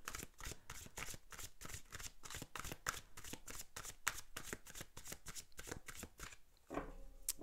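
Oracle cards are shuffled rapidly by hand for a draw, a dense run of crisp riffling flicks up close, steady for several seconds before a short pause and a final card slide.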